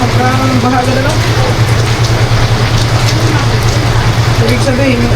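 Steady rain pours down in a constant hiss, with faint voices murmuring underneath.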